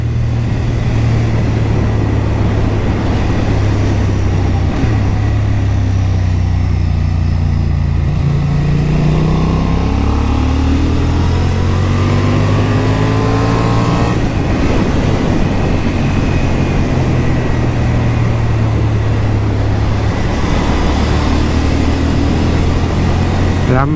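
Honda Hornet 750 (2023, A2 version) motorcycle engine revving through its road-use rev range while riding, with rising and falling engine tones under steady wind and road noise throughout.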